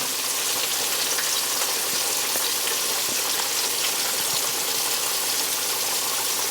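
Thin flour-dredged pork loin chops fry in a crowded pan of oil, a steady close, loud crackling sizzle with scattered pops running throughout, no voices.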